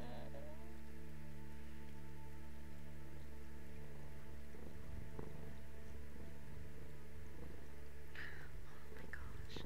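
A cat purrs in the video game Stray with a close, steady, low rumbling purr that runs throughout over a soft, rain-like hiss.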